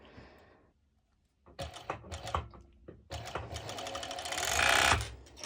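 A sewing machine stitching bikini bottoms, running in short bursts of rapid mechanical clatter with brief pauses, then a longer, louder run near the end.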